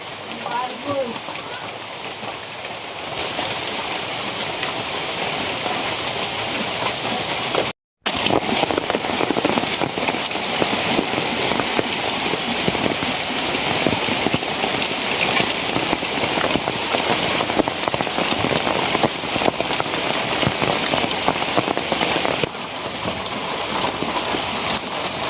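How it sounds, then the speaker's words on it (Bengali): Heavy rain pours down on a rainy day, a dense, loud and steady hiss of drops striking surfaces that continues without letup apart from a momentary break near the start. "বৃষ্টি আবার বাড়তাছে"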